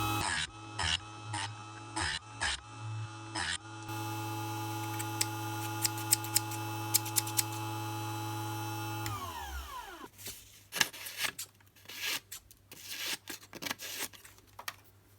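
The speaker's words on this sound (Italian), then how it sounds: "Proviamo ad affilare anche l'altro lato, vediamo se queste forbici devo buttarle o meno." Harsh mechanical grinding of a Parkside PSS 65 B1 electric sharpener on a scissors blade, with sharp bursts at the start, a steady whine through the middle, then scraping strokes as the blade is worked.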